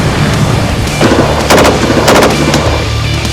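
Gunfire from World War II weapons at a half-track battle reenactment: loud sharp shots and bursts over a steady rumbling engine background, with a cluster of reports near the middle of the clip.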